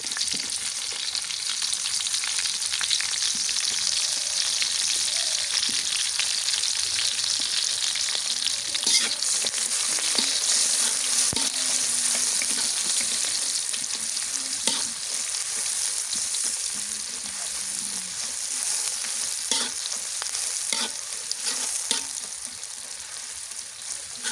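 Bay leaf, whole spices and chopped onion fry in hot oil, a continuous loud sizzle with occasional scraping stirs, steady and close throughout.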